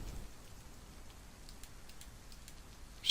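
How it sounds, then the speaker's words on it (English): Rain beginning to fall in the survival game DayZ, a faint, steady patter of drops on surfaces with scattered light ticks, heard alone. "It starts to rain."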